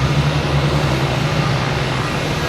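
A jet airliner arriving at Boston Logan Airport, its engines making a loud steady roar with a low droning hum that holds throughout.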